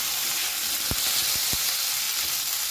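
Cut flat beans (shim) stir-fry in a pan for a spinach ghonto, a loud continuous sizzle broken by a few sharp spatula knocks and scrapes.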